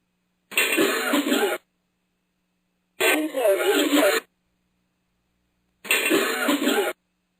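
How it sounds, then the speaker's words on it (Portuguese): A recorded cough plays three times in separate bursts, once forward and once reversed, each about a second long with silence between, sounding rough and radio-like. "Agora, lado a lado, a tosse e o seu reverso."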